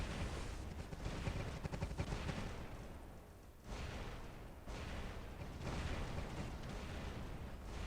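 Sustained, dense gunfire in a video game, a continuous rattling barrage with brief dips, heard alone without talk.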